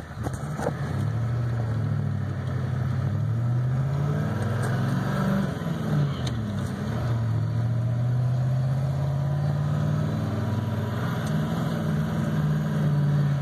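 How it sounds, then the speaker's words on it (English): A 1989 Ford F350 one-ton truck with a 7.3L IDI diesel tows a camper down the street, its engine droning loud and steady from inside the cab, with pitch rising and falling as it accelerates and shifts. "I love how these one-ton trucks like this with these diesels, they'll tow this stuff and not even make a big deal out of it."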